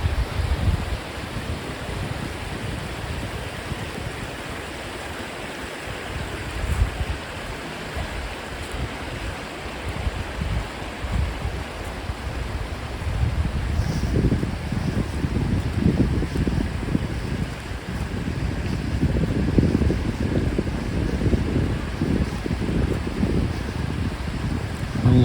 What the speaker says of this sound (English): All the way on our walk we can hear the lovely sound of the River Dane.